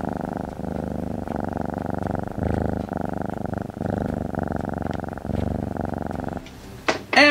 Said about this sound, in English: Sometimes, if you're real gentle, these dinosaurs will purr like a kitten.